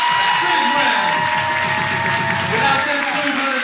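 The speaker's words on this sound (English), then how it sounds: "I'm gonna try to give them a big hand of applause" Audience applause and cheering at a live hip-hop show in Philadelphia, a dense, loud wash of clapping with crowd voices and talking mixed in throughout.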